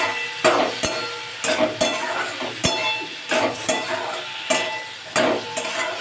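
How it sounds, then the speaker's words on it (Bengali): Tomato and mustard masala sautés in a pan for a small-fish and onion-stalk dish, with repeated rhythmic scrapes and clinks of a spatula against the pan over a continuous close sizzle. "কষিয়ে নাও।"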